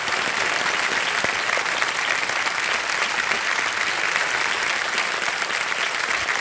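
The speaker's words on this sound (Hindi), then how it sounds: "मैं चाहूंगा कि जोरदार तालियां बज जाएं" A studio audience on the Indian quiz show Kaun Banega Crorepati claps loudly and continuously, a dense even applause with no talk.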